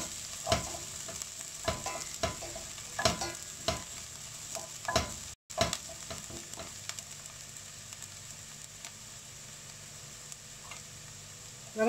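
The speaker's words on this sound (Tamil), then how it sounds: "வெங்காயம் ரொம்ப பொரியணுன்ட்டு இல்லை, சும்மா லேசாக வதக்கினா போதும்" Onions sautéing lightly in a pan for a spinach kootu, a continuous close sizzle broken by regular scraping stirs with a spoon, a brief dropout midway, then steadier frying.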